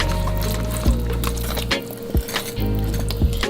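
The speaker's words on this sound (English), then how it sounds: "I'm going to gently pour these potatoes in there." Potatoes are poured gently into a pot in a home kitchen, a few soft splashing thuds and clinks over a steady low hum, each drop distinct and close.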